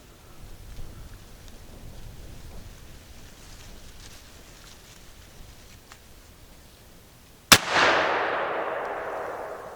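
A single loud, sharp blast from a .58-caliber Zeus big-bore air rifle on a 4,000 psi fill breaks a quiet outdoor background, followed by a long hissing, rumbling decay.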